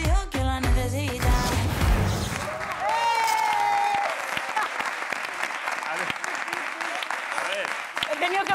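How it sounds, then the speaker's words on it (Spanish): Studio audience applause on a Spanish talk show, a sustained wash of clapping following music at the start, with a voice and a whistle-like tone briefly over it. "He tenido que pedir mi propio aplauso, tío"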